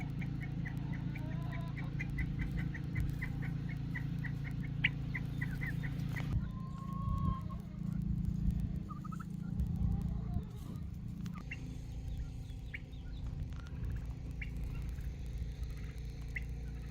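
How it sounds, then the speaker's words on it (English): A family of turkeys in a high desert rabbit garden, with soft repeated clucks and a few brief squawky calls over a steady low background hum, fairly faint. "The turkey family is enjoying the rabbit garden."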